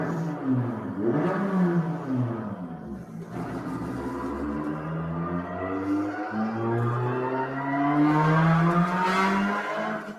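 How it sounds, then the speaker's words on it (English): Stripped-out Ford Fiesta engine revving and pulling through the gears, with gearbox whine and drivetrain resonance rising in pitch across steady, loud, close harmonic sweeps and no voices. "You can hear the resonance of the body, the chassis, the gearbox and transmission is coming through"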